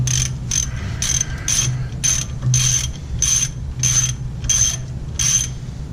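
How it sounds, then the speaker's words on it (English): A 17mm ratchet works on a brake caliper bolt on a 2014 Ford Explorer, giving about eleven sharp, evenly spaced clicking bursts close up, each a quick ratcheting rasp over a low steady garage hum, with no talking. "So I'm going to use a 17mm to take this off."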